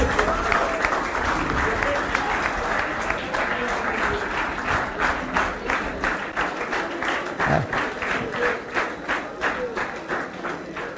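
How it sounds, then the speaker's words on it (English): A large audience at a 50-year school reunion of the 1973 SSC batch of Little Flower High School in Hyderabad gives a long round of applause, sustained clapping that settles into a rhythmic beat toward the end. "Give him a big ovation"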